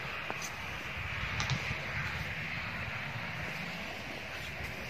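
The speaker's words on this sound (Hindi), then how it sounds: "हवा चल रही है, अब हवा चल पड़ी।" Wind blows steadily outdoors beside a field of drying wheat, a broad continuous rush with gentle gusts buffeting the microphone throughout.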